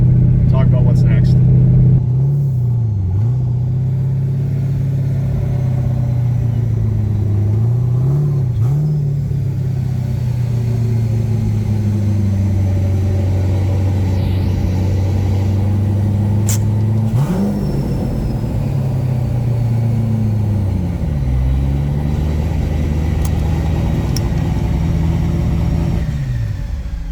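Twin-turbo C6 Corvette Z06 on 28-inch Mickey Thompson drag tires, its engine droning loud and close, rising and falling through several revs and gear changes over a sustained rumble.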